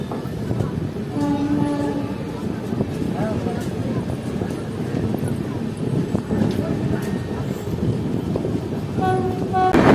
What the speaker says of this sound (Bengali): ঘুসকুড়া থেকে 1 মিনিট হল দেওয়ার পর আমাদের ট্রেন ছেড়ে দিল ঘুসকুড়া রেলওয়ে স্টেশন